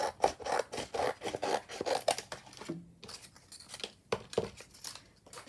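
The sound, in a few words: cutting collage masterboard paper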